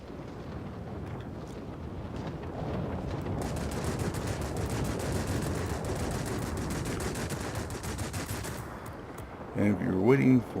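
Yak 15 jet in World of Warplanes firing its machine guns, a sustained rapid rattle of gunfire over a dense engine and wind roar, steady and close, with a short burst of other game noise near the end.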